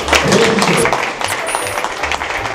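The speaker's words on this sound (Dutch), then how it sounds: "applaus voor John van der Schrijver" Audience applause for John van der Schrijver at the kickoff event for Een nacht in de Efteling, a steady dense wash of clapping lasting a few seconds, fairly loud and close, with no talk over it.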